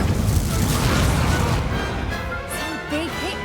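An Incendio fire spell in Hogwarts Legacy lets out a loud, rushing blast with a booming, roaring body that fades over a few seconds, while a voice is heard faintly near the end.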